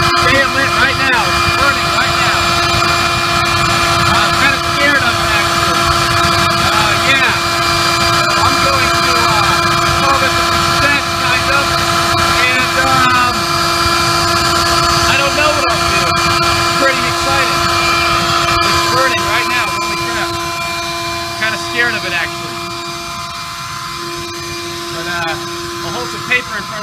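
A homemade gasifier burns with a steady, loud roar like a jet engine, holding constant for most of the stretch before easing slightly near the end.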